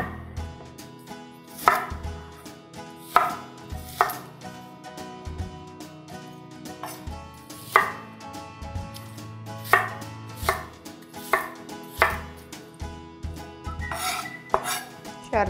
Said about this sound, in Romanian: Voi tăia ceapa roșie